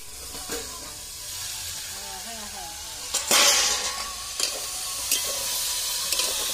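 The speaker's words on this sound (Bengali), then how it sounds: "এবার চাপা দিয়ে কিছুক্ষণ ভেজে নেব।" Small shrimp and mixed vegetables fry under a lid in a home kitchen, giving a steady close sizzle and hiss with a few louder spatters and clatters partway through, and no talk over it.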